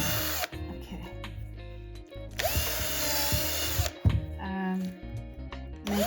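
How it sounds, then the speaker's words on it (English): A power drill whirs in several loud bursts, drilling holes for a sculpture mould, pitch rising and falling as it bites in, with short pauses between runs and some faint talk underneath. "And you take your little drill"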